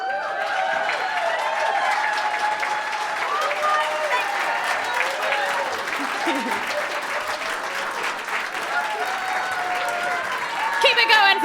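Sustained audience applause and cheering at a live book club music show, a dense crowd of clapping with scattered whoops and voices, swelling slightly near the end.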